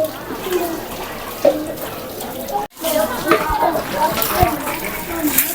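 Sulphur spring water gushes and splashes steadily from its outlet at a busy sacred hot spring, a continuous close wash with a brief gap midway, and crowd voices and talk mixed in.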